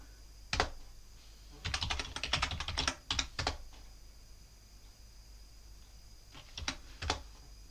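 Keystrokes on a computer keyboard as a sudo command is entered into a Linux terminal: a quick single tap, a dense burst of clicks, then a few more scattered taps after a pause, close and moderately quiet with no talking.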